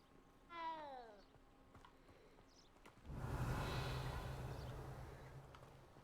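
Cat in Hogwarts Legacy gives one clear, close meow near the start, followed by quiet ambience and then a broad swell of game background noise.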